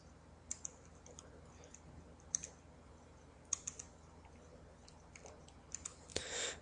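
Computer mouse clicks while working in GeoGebra: scattered sharp clicks, some in quick pairs, faint and close over a low background hum, ending in a brief rustle.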